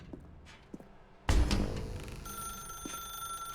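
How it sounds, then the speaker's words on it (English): A telephone rings loudly in the dark room of The Stanley Parable: Ultra Deluxe, with a sudden strong onset and a sustained, steady electronic ring that continues to the end. "Now pick up the phone."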